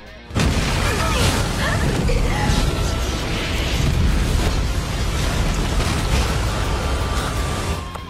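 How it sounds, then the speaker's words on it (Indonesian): A massive energy explosion from two colliding powers in an animated fantasy battle, a dense sustained roar of rumbling blast noise that stays loud and full for about eight seconds before easing slightly at the end. "Ketika kedua kekuatan saling bertubrukan, terjadilah ledakan energi yang cukup dahsyat"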